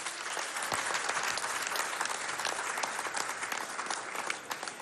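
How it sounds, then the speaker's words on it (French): A crowd claps steadily at a charity gala for autistic children, dense sustained applause with scattered sharper claps, moderately distant. "A big round of applause."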